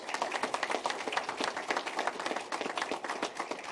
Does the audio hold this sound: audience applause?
yes